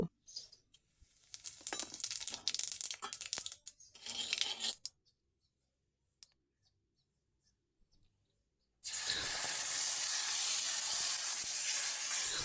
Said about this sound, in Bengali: এবারে ছোট দুটো এলাচ এক টুকরো দারচিনি গোটা জিরে ফোড়ন দিয়ে মশলাটা দেব